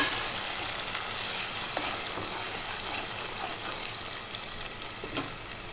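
Onions frying with green chili and ginger garlic paste in hot oil make a steady, close, hissing sizzle with faint crackles throughout, and no voices.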